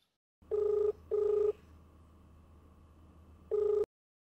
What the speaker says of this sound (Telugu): ఒకసారి ఆయనకి ఫోన్ చేసి చూద్దాం ఆయన ఏం మాట్లాడతాడో